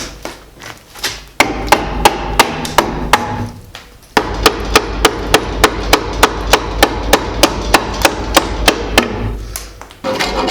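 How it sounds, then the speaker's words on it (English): A sharp 1.5 inch chisel driven into a black locust recurve bow handle, a loud, steady series of close hammer strikes on wood, roughly two or three per second, with a short pause before the blows resume. "Now let's chop it out with the chisel."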